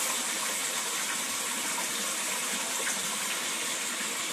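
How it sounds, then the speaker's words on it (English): Water flows steadily into an aquaponics fish tank, a continuous close gushing and splashing rush that holds at an even level throughout with no voices. "I've just distributed the water flow across the length"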